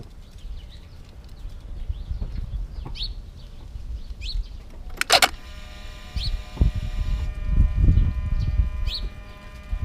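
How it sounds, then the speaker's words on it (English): With the ignition on, the throttle body actuator of a Mercedes S600 W140 sets up a thin, steady electric whine midway through. Birds chirp, and brief outdoor knocks and a sharp burst of noise sound around it. "Don't mind this noise, that's just the nature of the throttle body."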